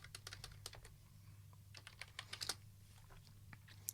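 Typing on a computer keyboard in a music-production setting: a steady run of quick, close key clicks in uneven bursts over a constant low electrical hum.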